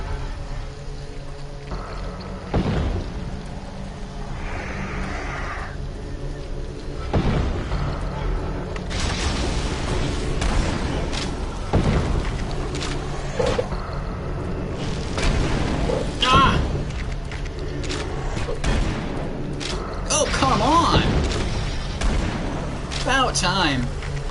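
A chain gun fires in a video game, with bursts of booming, rattling shots that grow denser in the second half, amid loud game noise. A voice talks over parts of it.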